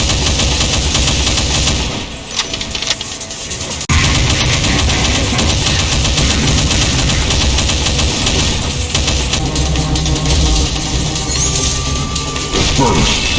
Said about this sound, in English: It can fire a massive spread volley of Nemesis plasma shots.